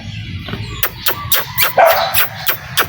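A dog barks repeatedly at close range, about seven sharp barks in a loose rhythm, after a brief low rumble at the start.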